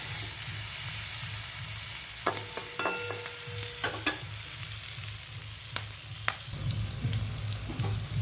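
Fish frying in a pan with cumin, ginger, chilli, turmeric and tomato, a steady close sizzle with a low rhythmic bubbling pulse and a few sharp spoon clinks and scrapes.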